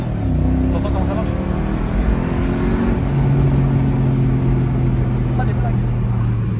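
A car engine runs steadily while driving, with a low sustained drone and shifting pitch as it pulls, and voices talk over it throughout.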